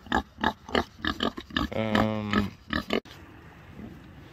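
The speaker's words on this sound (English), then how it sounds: "And then over here, I had to move Gus, one of the Idaho pasture pigs" An Idaho pasture pig on a farm grunts and oinks close by in a quick series of short, throaty bursts, with one longer drawn-out squeal-like grunt, before it falls quiet.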